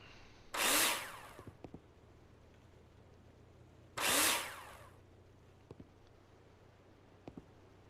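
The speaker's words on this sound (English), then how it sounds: "Place the profiles and screw them in with a drill." A power drill driving screws into building profiles in the Builder Simulator video game, two short high-pitched whirring bursts a few seconds apart, each followed by faint clicks, over a quiet background.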